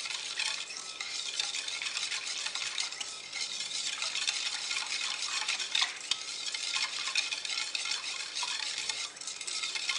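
A spoon stirs potato starch into a cocoa cake batter with continuous soft, wet scraping and swishing. The sound is close but quiet and carries no talk.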